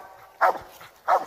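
Coon hunting dogs bark at a raccoon treed in the canopy between two touching trees at night, two loud, separate barks about half a second apart against quiet woods.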